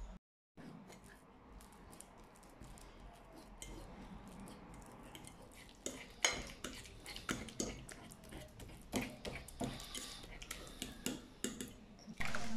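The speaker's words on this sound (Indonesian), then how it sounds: "Potong-potong pisang dan haluskan dengan garpu." A fork mashes cut bananas in a bowl for mini banana bread, a series of close, soft squishing taps and scrapes that grow busier and more rhythmic as the mashing continues.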